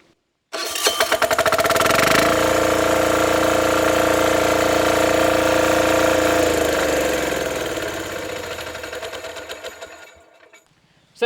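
A self-start engine on a power weeder with the clutch locked, starting abruptly and running at a loud, steady, buzzing mechanical drone, close by, then winding down and cutting out near the end.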